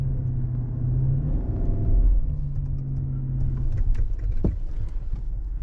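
A 2021 Cadillac Escalade's engine pulls at about half throttle while climbing out of a rough off-road spot, a steady deep rumble with a brief surge in the middle, close and continuous without talk.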